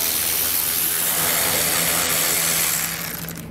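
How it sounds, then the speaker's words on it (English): A power tool, likely a drill or driver, runs steadily near and loud while backing out T15 Torx screws on a 2020 vehicle during a base plate install, then eases off toward the end, with no talking. "T15 Torx bit screws that we're going to remove"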